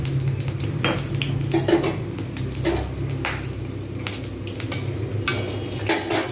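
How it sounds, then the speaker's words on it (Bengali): Whole cumin and garam masala tempering in hot oil in a pan: a continuous close sizzle with clinks of a utensil and metal pan knocks throughout, no voice over it. "এবার এর মধ্যে গোটা জিরে আর গরম মশলাটা ফোড়ন দেব"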